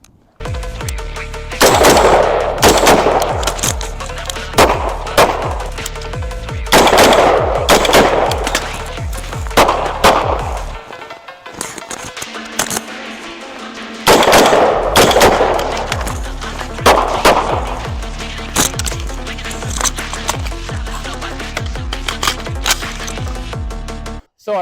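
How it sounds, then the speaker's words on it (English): Glock pistol fired at a range, sharp loud gunshots in rapid strings and clusters with short pauses between bursts, each report close and cracking with a brief echo. "Now let's try to put it into live fire."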